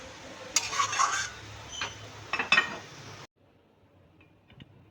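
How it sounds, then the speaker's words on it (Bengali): A spoon stirs chicken rezala in a pot after rose water and kewra water are poured in, making a few close metallic clinks and scrapes over about three seconds. Near-silence follows. "এবার এখানে রোজ ওয়াটার আর কেওড়া জল দিয়ে দেব, দিয়ে একটু নাড়িয়ে নেব।"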